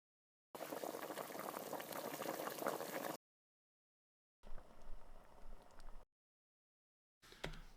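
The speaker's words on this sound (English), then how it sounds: "See if I can find a different kind of boil sound." Three separate bursts of bubbling, boiling liquid, each cut off by silence: a loud dense rolling boil first, then a thinner gurgling stretch, then a brief final bubble burst.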